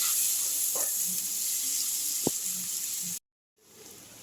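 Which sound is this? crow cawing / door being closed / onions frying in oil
onions frying in oil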